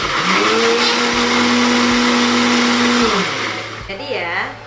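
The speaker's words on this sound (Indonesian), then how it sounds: "Kita masukkan ke dalam blender semua ya." An electric blender grinds washed spices into a white seasoning base, a loud steady whirring drone for about three seconds that then winds down and stops, with a voice briefly talking near the end.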